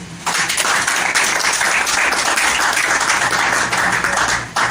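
Church congregation applauding the Lord during a Sunday service, loud sustained applause from a large crowd filling the room nearly the whole time, broken by brief pauses at start and end.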